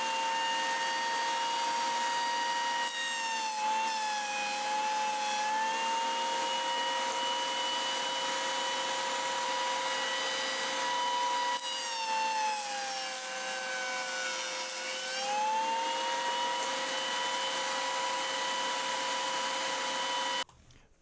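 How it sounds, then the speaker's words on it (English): Jointer face-jointing a cedar board: a loud, steady machine whine holds for about twenty seconds, its pitch sagging briefly twice as the wood feeds through, then cuts off at the end. "I'm just going to run it through the joiner"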